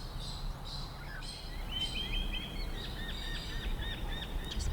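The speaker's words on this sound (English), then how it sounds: "You can hear some birds maybe." Birds sing outdoors in a series of high chirps and short trilling phrases, moderately distant, over a constant low wind-like rumble.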